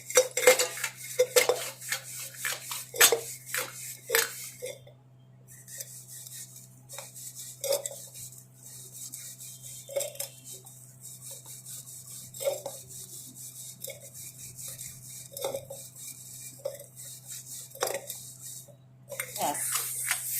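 Brass puja utensils scrubbed and washed by hand, with metallic clinks and knocks of pots and plates, rubbing and scraping, and a low steady hum underneath, close by, with short gaps between strokes.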